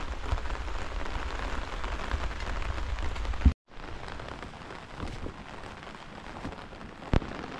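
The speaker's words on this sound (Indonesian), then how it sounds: "Padahal ini hujan gede, justru ibu ngarit." Heavy rain pouring steadily outdoors at a pond-digging site, a dense continuous roar of drops on surfaces that breaks off briefly and resumes, with a sharp knock near the end.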